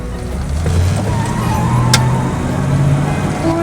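A 1968 Oldsmobile 442 muscle car pulls away from a dead stop, its engine giving a steady, fairly loud low rumble with a brief sharp noise midway.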